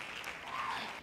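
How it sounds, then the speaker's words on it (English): A short burst of hand claps, a sound effect with a few quick overlapping claps heard close and alone. "Hand claps"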